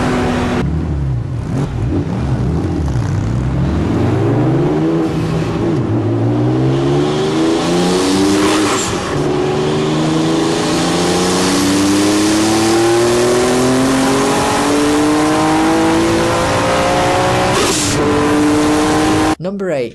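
A Porsche-based supercar engine revs up and accelerates through several rising gear sweeps. It is loud and close, with a voice talking over it for much of the time.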